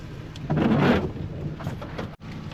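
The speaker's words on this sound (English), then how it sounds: "It is wet and rainy and lightning." A thunderstorm rolls overhead with a deep rumble of thunder swelling and fading over a steady hiss of rain falling on surfaces, with no one speaking.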